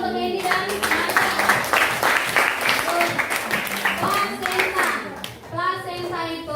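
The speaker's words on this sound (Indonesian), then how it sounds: "Tepuk tangan untuk Candy dan Marda." Children in a classroom applaud with a lively burst of clapping that carries on for several seconds, mixed with kids' voices and a teacher talking over it.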